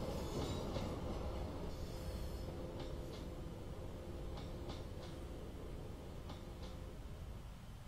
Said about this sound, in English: Plenty of trains on this scenario, which is good.